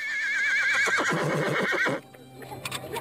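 A horse at a knights' tournament reenactment gives one loud, close, wavering whinny that lasts about two seconds, followed by quieter background sounds.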